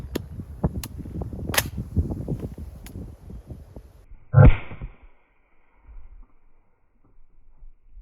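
One loud, abrupt AR rifle shot fired outdoors, cutting through earlier rustling noise and followed by near quiet.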